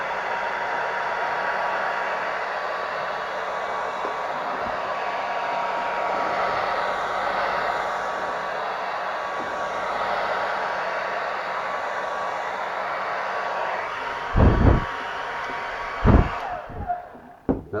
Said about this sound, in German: Natürlich auch mit dem Föhn ist Übungssache.